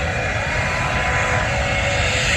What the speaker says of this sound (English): The thrust just like a jet engine at an airport. They're not wheel driven, it's all thrust with the jet engine.